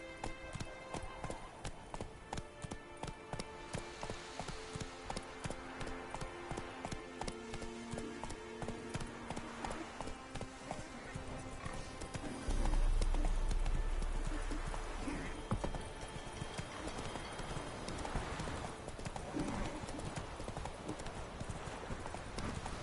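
Roach, the horse in The Witcher 3, trots steadily with a continuous rapid clip-clop of hooves, loud and close, over game music and ambience, with a heavier rumble partway through.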